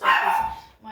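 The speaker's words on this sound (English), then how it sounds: "dog is telling me there's someone there." A dog indoors in a flat lets out one short, loud bark at someone at the front door. It is close and quickly fades.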